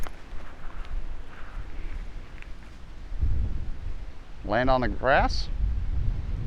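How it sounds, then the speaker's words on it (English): Gusty wind blows across an outdoor disc golf course, buffeting the microphone with low, uneven rumbling that swells stronger midway, while someone speaks briefly over it. "It's pretty windy"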